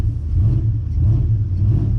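Dodge Dakota R/T pickup with a Mopar M1 intake, shifting gears: a steady low engine rumble with a slight dip and rise around a gear change, heard from inside the cab.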